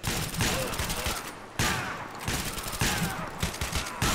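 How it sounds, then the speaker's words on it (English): Shotgun fire in the LCPDFR police mod game during a SWAT-versus-zombies fight, several loud close blasts spaced about a second apart, each followed by a brief rumbling decay. "Let's go ahead and pull out a shotgun for these guys."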